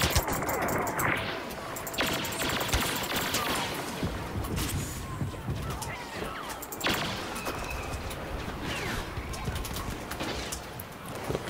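Sniper fire in the 2015 Star Wars Battlefront multiplayer game: a dense, continuous wash of battle noise with scattered sharp shot cracks, several sounding distant, over a constant loud background.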